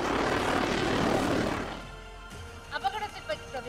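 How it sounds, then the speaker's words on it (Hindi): A MiG-29 fighter jet takes off from the runway of the aircraft carrier INS Vikrant during a Navy Day event: a loud, broad engine roar for about a second and a half, then dropping away under faint crowd voices and scattered bright sounds. "जब विक्रांत के रनवे से MiG-29 विमान ने टेक ऑफ किया"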